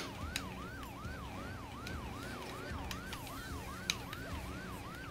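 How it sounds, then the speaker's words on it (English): A police siren wails in a video game chase, a fast repeating whoop that rises and falls steadily, loud and close behind, with a few sharp clicks over a low engine rumble. "I see the siren behind me."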